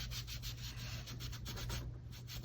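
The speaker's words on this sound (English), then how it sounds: "put your sponge on here and kind of drag it" A craft sponge dragged across shimmer white coated cardstock, a soft continuous rubbing and scraping in quick strokes, close and faint.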